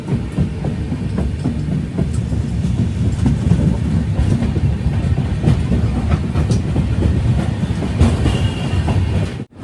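Gurudev Express passenger train running on rails, a loud, continuous low rumble with rhythmic clickety-clack from the wheels, heard from inside a 3AC coach.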